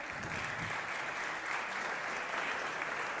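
Audience applause at a French event just before an envelope with results is handed over by a bailiff, a steady dense wash of clapping held evenly throughout, moderately distant and fairly quiet.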